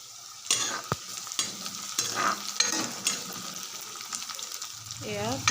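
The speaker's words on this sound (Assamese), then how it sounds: "এয়া পিঁয়াজখিনি অকণমান ৰঙা পৰা নিচিনা হৈ গৈছে" Chopped onions sizzle in hot oil in a pan while a spoon stirs and scrapes them, a close, steady fry for a raw-banana kofta curry, with clattering stirring strokes throughout and a short tonal scrape near the end.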